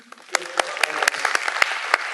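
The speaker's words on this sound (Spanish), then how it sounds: "un aplauso a la maestra Ana Sisi" Audience applause for the teacher Ana Sisi at a 2014 culture conference in San Luis Potosí, with sparse individual claps that swell into steady clapping over a little more than two seconds, and some talk mixed in.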